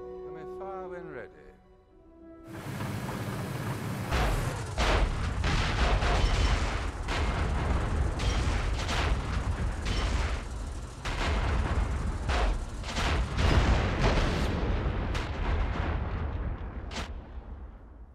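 Tank cannon fire in the IL2 Tank Crew combat game with an M4A2 tank: after a quiet start, loud booming blasts begin and repeat in a dense, rumbling barrage. A voice speaks now and then beneath the noise.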